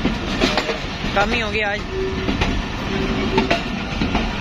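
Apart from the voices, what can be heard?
Karakoram Express train running on the rails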